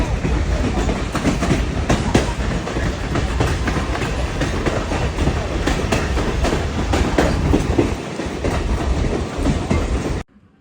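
A passenger train runs along the rails with a continuous rumbling roar and rhythmic clickety-clack from the wheels, loud and close throughout before easing off at the very end.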